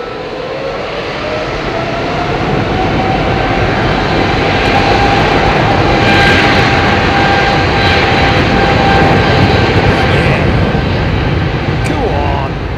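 Q400 turboprop aircraft departing Heathrow Airport on an evening departure, a loud, steady engine roar that holds throughout with a faint rising whine, while people talk over it.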